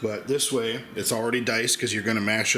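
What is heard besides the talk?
None of the usual background noises is heard.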